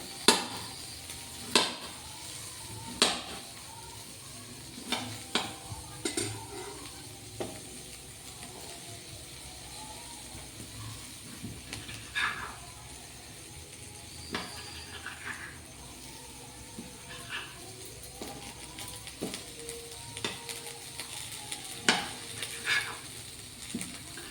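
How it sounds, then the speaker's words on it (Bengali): Whole spices frying in a pan, a faint steady sizzle punctuated by occasional louder clinks and scrapes of a stirring utensil against the pan, with no talk. "শক্ত মশলাগুলো দিয়ে দিলাম এর মধ্যে, হালকা নাড়াচাড়া করে নেবে"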